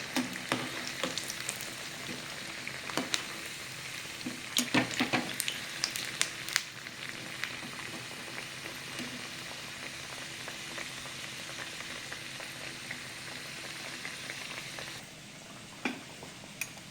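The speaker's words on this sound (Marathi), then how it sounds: "या पुऱ्या अशा खरपूस तळायच्या आहेत, लाल होतात तो कडक व्हायला पाहिजे" Puris deep-frying in hot oil until crisp and browned, a dense continuous sizzle and bubbling with occasional sharper pops and utensil clinks, close and steady throughout.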